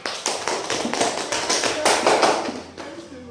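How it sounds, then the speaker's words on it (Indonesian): A classroom of students claps for a classmate who answered correctly, a dense burst of applause that holds steady for a few seconds before tapering off. "Kasih aplaus untuk temannya"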